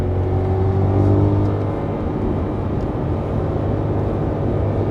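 A BMW E92 M3 is driven hard at around 90 to 100 mph on a road, giving a loud, steady engine and road drone that swells slightly early on, with no talking.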